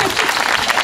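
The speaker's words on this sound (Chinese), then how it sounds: "掌声。" Applause from a live crowd at an indigenous music concert, a brief dense burst of close, loud clapping.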